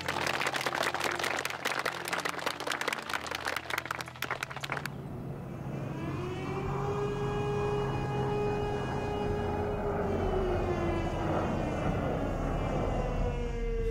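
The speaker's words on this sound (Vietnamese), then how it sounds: "Máy bay địch đã vào cảnh giới của dân Nam." An enemy military aircraft passes overhead as a droning engine tone that slowly falls in pitch, steady and fairly loud, following a stretch of harsh rhythmic pulsing.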